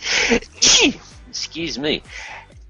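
During a live business talk, a speaker sneezes twice in a row, sharp and close, and speech follows right after.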